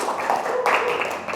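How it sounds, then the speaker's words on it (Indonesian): Brief clapping by a classroom of students, a short, continuous patter of hands, close and moderately loud. "Kasih tepuk tangan untuk kalian semua gitu ya."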